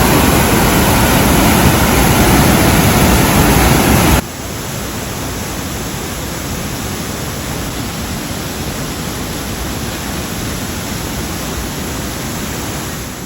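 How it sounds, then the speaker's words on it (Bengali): Board Hill Falls, a roadside waterfall in Meghalaya during the monsoon, roars as a dense, constant rush of falling water that drops slightly in level after a few seconds and then holds steady. "রাস্তার ধারে এত সুন্দর একটা জলপ্রপাত, চলুন দেখি"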